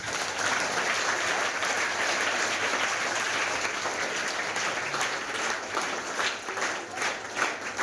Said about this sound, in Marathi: आता मगाशी जशा टाळ्या वाजवल्या होत्या तशा टाळ्या वाजवल्या.